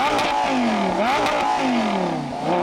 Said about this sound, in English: Take a listen to a few revs from the Super Trofeo Stradale.